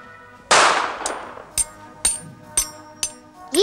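A sharp metallic crack from a toy gun at a shooting gallery rings out, followed by several quick, clanging pings spaced about half a second apart, like pellets striking metal targets.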